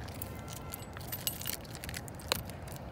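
Keys jangle briefly and faintly inside an old abandoned flour mill during a snowstorm, with one sharper metallic clink partway through, over a steady background hum, no talking.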